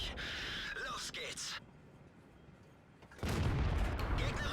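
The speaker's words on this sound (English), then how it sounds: "Artillery is fired" Artillery fire in a tank video game replay: a heavy broadband boom cuts in late and rumbles on loudly after quieter stretches of game noise, with a person talking throughout.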